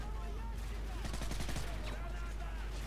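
Gunfire in the Call of Duty Modern Warfare video game, a rapid burst of shots in the middle over a constant low game hum, fairly quiet overall.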